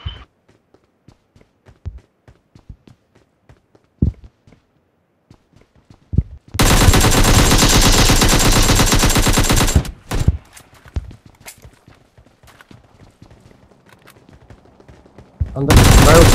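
Sustained automatic gunfire in the battle game PUBG, a loud dense burst lasting about three seconds, followed by scattered single shots and footsteps, then another burst starting at the end.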